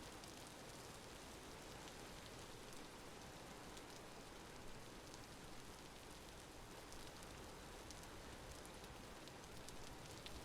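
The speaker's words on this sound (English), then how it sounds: "This game's rain is so loud," Heavy rain in the video game Vintage Story pours down in a dense, continuous hiss, loud and uniform with no pauses or voices.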